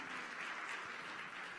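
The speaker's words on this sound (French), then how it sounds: "est-ce qu'on peut les applaudir?" A church congregation applauds newly baptized people, steady dense clapping filling the room without a break.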